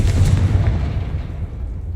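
Confringo blasting-spell explosion in Hogwarts Legacy, a loud deep boom with a rumbling tail that fades over about two seconds.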